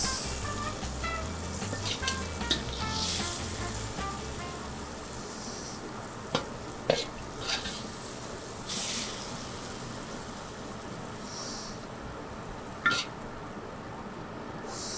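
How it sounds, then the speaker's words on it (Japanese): Twice-cooked pork (hoikoro) stir-fried in a pan at a Chinese restaurant, a steady sizzle with occasional clanks and scraping of the utensil, close and continuous with no talk. "中火ぐらいで焦げないように炒めていった方がいいとは思いますね"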